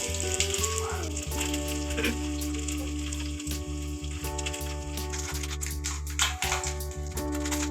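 Egg rice cutlets frying in oil over a medium-low flame, with a loud continuous sizzle and crackle close by, alongside a steady low hum.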